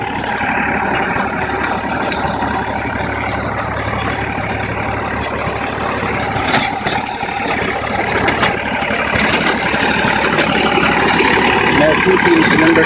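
A Massey Ferguson 245 DI tractor's heavy diesel engine idles steadily up close, a low continuous rumble with some louder revving bursts toward the end.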